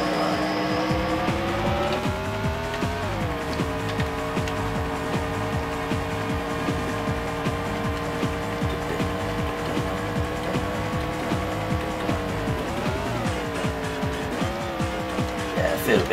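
Race cars in Andretti Racing on the Sega Saturn, a constant loud buzzing engine drone that holds steady, then dips and rises with gear changes and a faint tire squeal, with no talking.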